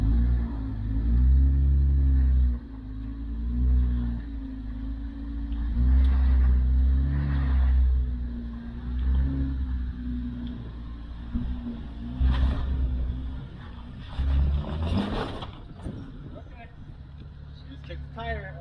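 An off-road vehicle's engine rumbles and labors as it climbs rocks in Moab, Utah, with a deep steady drone that swells and eases, plus scraping and clunking near the end, while someone talks over it.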